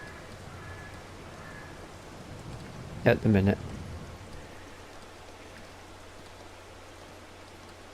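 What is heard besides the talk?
rain in Farming Simulator 22 video game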